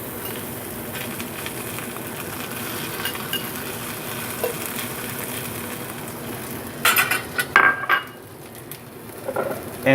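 Filet mignon and caramelized onions fry on a low stovetop heat, giving a steady close sizzle with occasional scraping and clinks of a utensil against the pan near the end.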